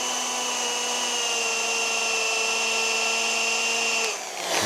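A power polisher works over the painted skin of a Cessna 421C during a livery repaint, giving a steady, loud tonal whine with stable harmonics that drops and tails off near the end as the tool eases.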